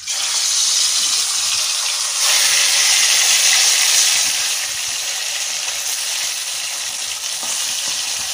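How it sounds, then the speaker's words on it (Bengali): Fish, freshly caught bata, sizzles in hot mustard oil in a pan, a loud, steady frying hiss that swells briefly midway and continues without talk. "তেল গরম হয়ে গেছে, এবার মাছগুলো এক এক করে ছেড়ে দেবো।"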